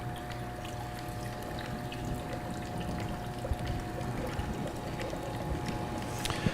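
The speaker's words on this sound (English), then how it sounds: "all the flow is now going through the hybrid valve" Water flows steadily through a Blacoh hybrid valve, making a constant, close rushing and trickling wash with no break and no voices over it.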